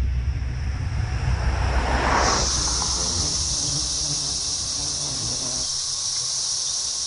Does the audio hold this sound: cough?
no